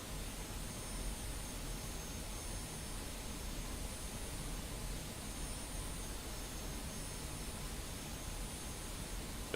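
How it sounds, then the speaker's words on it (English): A Russian propeller trainer plane flies by in the DCS combat flight simulator, its engine a steady broadband roar that holds loud and even throughout, with no voices over it. "There was a propeller plane that just flew by."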